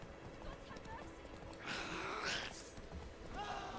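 Horse hooves clatter in The Witcher 3: Wild Hunt, a steady clip-clop under continuous game ambience and background noise, with a brief neigh-like cry midway.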